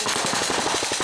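An airsoft-style gun fires a rapid burst at a board, about a dozen quick even shots in a tight rhythm, loud and close over a brief span.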